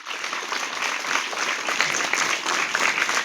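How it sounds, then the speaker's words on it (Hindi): Steady applause from a crowd for competition winners, dense clapping filling the whole stretch at an even, fairly loud level with no talking. "उनके लिए तालियां।"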